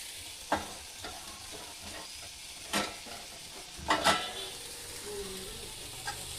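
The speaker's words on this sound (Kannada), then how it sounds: "ಕೊತ್ತಂಬರಿ ಹಾಕೋದ್ರಿ, ಅಳಗಾಡ್ಸೋದ್ರಿ." Coriander being stirred into curry frying in a pan: a faint steady sizzle with a few sharp scrapes and clinks of the spoon against the pan, no talking.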